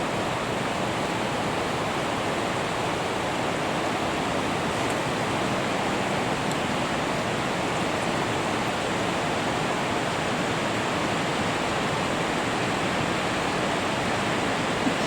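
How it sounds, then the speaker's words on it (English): A river rushing near Reekie Linn waterfall in winter makes a steady, dense broadband roar of flowing water that stays even and unbroken throughout, with no voices. "just around the bend in the river are Linn Falls"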